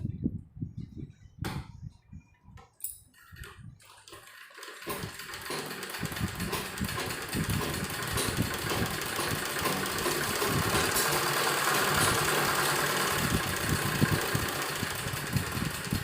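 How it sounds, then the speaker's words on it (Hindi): An electric sewing machine stitches along the edge of a fabric sleeve for a women's umbrella-style blouse, starting with a few short taps and then running in a loud, continuous whirring buzz. "यहाँ किनारे किनारे पर एक सिलाई लगाएंगे हम।"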